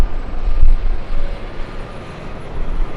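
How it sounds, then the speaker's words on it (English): A Delta Boeing 757 starts rolling at LAX, its engines giving a steady, rumbling low roar with gentle swells in loudness and no voices over it. "Delta 757 getting a head start."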